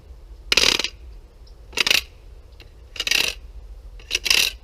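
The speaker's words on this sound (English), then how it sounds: "I use my saw blade as a noise maker." A camp trap noise maker made from a saw blade with cut teeth rattles and scrapes in four separate bright, metallic bursts, evenly spaced about a second apart, heard close up against a low background rumble.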